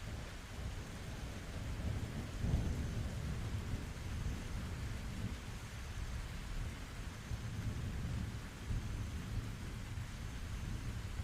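Steady heavy rainfall with rumbling thunder, a continuous dense wash of sound with deep low rolls swelling slightly around the second and third seconds, no voices.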